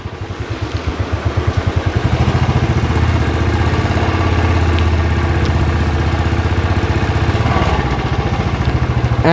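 Royal Enfield motorcycle engine running steadily near a beach in Goa, a loud, close, even thump that holds for the whole stretch without any speech.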